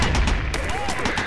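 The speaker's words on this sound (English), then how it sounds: "We got MJ, mortars, Artie, every goddamn thing firing at us!" Gunfire with mortar and artillery fire in a Brothers In Arms World War II cutscene, a dense continuous battle din with sharp cracks, under shouted speech.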